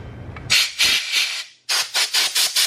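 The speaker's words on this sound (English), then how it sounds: "use my air nozzle and blow it dry" Compressed air nozzle blowing a spray gun dry after cleaning with lacquer thinner, heard as loud hissing blasts: two longer bursts, a pause, then five quick rhythmic puffs close by.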